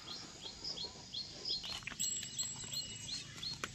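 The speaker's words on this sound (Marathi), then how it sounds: "रोज सकाळ सकाळ पाखरे येते इथं खायला" Small birds chirp in repeated short, high tweets as they gather each morning to feed on rice scattered on swept ground, a steady faint patter of calls over quiet outdoor background.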